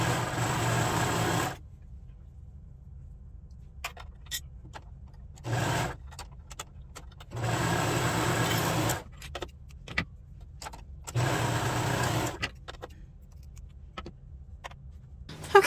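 A sewing machine runs a quick seam on the short ends of a cardigan band, in four separate bursts of steady whirring with quiet pauses and small handling clicks between them.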